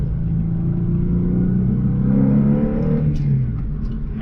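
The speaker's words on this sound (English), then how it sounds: "I can actually really feel a difference in just the way that the car revs and how it idles after changing those injectors" A Porsche 996 engine, fresh from an injector change, rumbles steadily from inside the car on a test drive, its low drone swelling slightly as the revs rise, with no talking.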